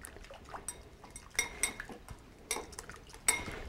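Salad dressing seasoned with salt and black pepper being whisked in a bowl, giving irregular quick clinks and taps of metal against the dish, close and fairly quiet, with no voices.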